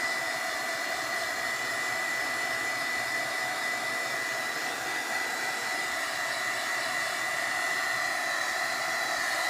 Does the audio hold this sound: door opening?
no